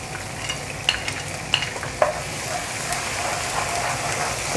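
Ginger-garlic paste frying with onions in a pan for lauki chana dal, a continuous close crackling sizzle with a few sharp spatula taps against the pan, no voices.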